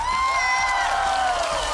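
A theater crowd at a Taiwanese opera singing contest final cheers, whoops and claps to welcome the host, a loud sustained roar with shouts rising above the applause and a sweeping musical tone running underneath.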